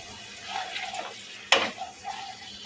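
Cornflour being stirred into a pan, with a faint sizzle, soft scraping and one sharp clink of the utensil against the metal midway, close and moderately quiet.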